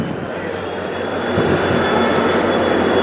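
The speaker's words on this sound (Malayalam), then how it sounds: "ചെന്നൈയിൽ നിന്ന് വന്നൊരു വന്ദേ ഭാരതിന്റെ വണ്ടിയാണ്" A steady, loud mechanical roar builds slightly over a few seconds as a Vande Bharat train pulls into a station nearby.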